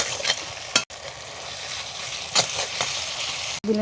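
Ginger and cumin pastes fry in a pan alongside onion, chilli and garlic pastes, giving a continuous close sizzle broken by a few scraping stirs and two brief dropouts.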